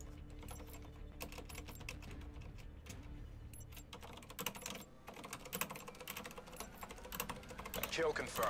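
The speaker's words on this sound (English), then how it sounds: "Whoops, I was typing" Rapid clicking keystrokes on a computer keyboard patter in quick irregular bursts throughout, fairly close, with game sounds and a voice faintly beneath.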